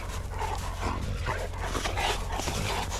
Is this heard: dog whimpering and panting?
yes